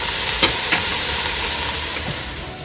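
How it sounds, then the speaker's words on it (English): Cashew, cinnamon, cardamom, clove and paprika spice mix frying in a pan for mutton curry, a loud steady sizzle and hiss with a few scraping stir strokes. "Keep stirring, mix well."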